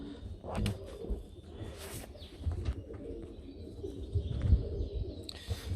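Pigeons coo in low, throaty murmurs with occasional wing flutters and scuffles, several birds close by in an enclosed loft.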